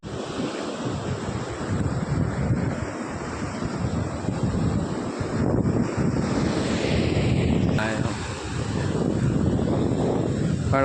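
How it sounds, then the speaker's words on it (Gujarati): Rough sea surf crashes and rushes steadily at the shore near Chorawad, heavy wind buffeting the microphone into a constant loud roar with no pauses; no voices. "દરિયો ફૂલ ગાંડો હોય અટાણા જો બહુ પાણી આવે"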